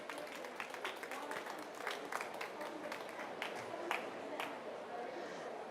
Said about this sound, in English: And a round of applause, yes.